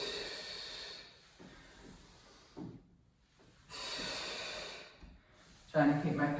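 Audible breaths in and out during a standing exercise series: soft, close inhales and exhales in slow alternation, with quiet gaps between them and a sharper breath near the end.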